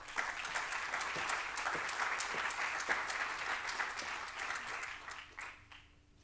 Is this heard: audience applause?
yes